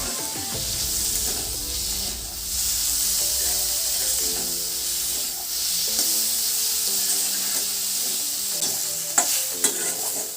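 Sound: bottle gourd (lau) frying in a pan

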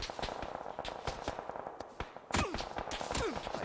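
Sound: gunfire in video game PUBG

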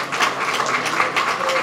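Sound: audience applause

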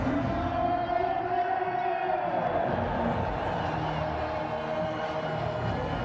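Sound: crowd of Peshawar Zalmi supporters celebrating at cricket match

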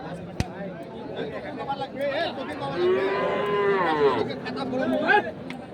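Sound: cattle at a livestock market

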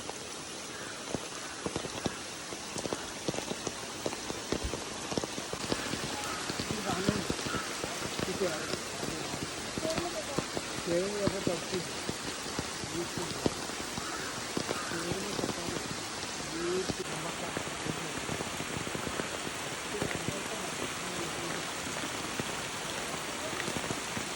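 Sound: heavy rain

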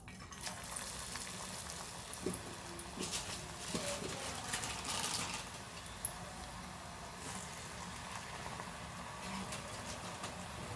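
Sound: chakli dough frying in hot oil

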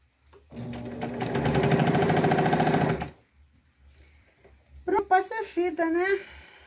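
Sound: Singer sewing machine stitching fabric

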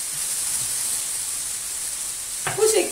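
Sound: onions sautéing in a pan

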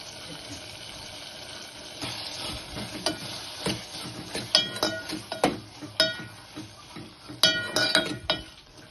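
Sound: tamarind and turmeric frying in oil

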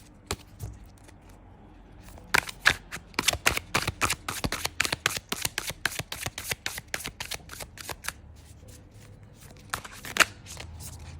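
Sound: shuffling tarot cards

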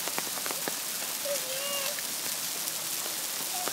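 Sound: hailstones falling outdoors during a hail storm

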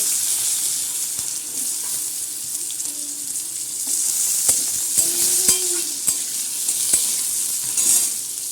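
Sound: cut potatoes frying with helencha greens

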